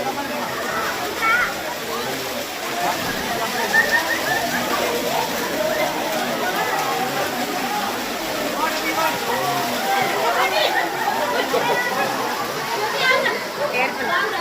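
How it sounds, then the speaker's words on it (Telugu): Water splashes and pours steadily at a temple, a continuous rushing wash that carries on throughout, with people talking over it. "నీళ్ళు ఇట్లా పోసుకో"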